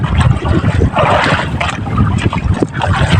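Strong wind buffets the microphone in a steady, loud roar, with water splashing and sloshing underneath throughout.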